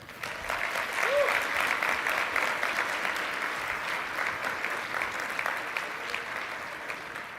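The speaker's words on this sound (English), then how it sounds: "one more round of applause for our delightful faculty choir" Warm, sustained applause from a lecture audience for a faculty choir, a broad even clatter of many hands that swells early and then holds steady, with a brief faint vocal sound near the start.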